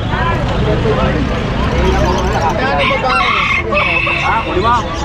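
Chickens cluck and a rooster crows repeatedly nearby, with people talking over the busy, lively poultry noise.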